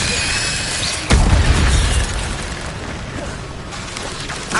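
An Incendio fire spell goes off in Hogwarts Legacy with a sudden loud whoosh and crackling burst about a second in, fading over the next second amid battle noise.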